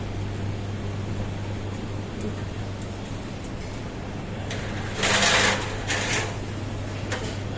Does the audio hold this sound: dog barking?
no